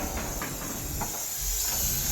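Steady, continuous hiss of nitrogen gas flowing into an old Blue Star VRF air conditioner pipe for a leak pressure test, close and unbroken throughout with no voices.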